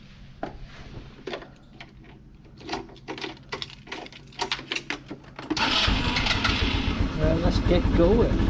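Motorbike engine on a Bermuda roadside: a few sharp knocks and clatters, then the engine fires and roars loudly and steadily as the rider pulls away, the revving rising and holding through the end.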